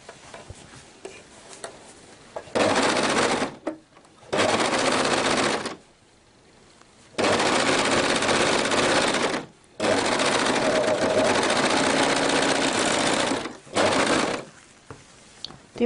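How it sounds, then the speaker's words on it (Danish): An overlocker serger stitches the seam around a hoodie's hood in several bursts of fast, even whirring and ticking, separated by short pauses, loud and close. "Det var sammensyningen rundt i hætten"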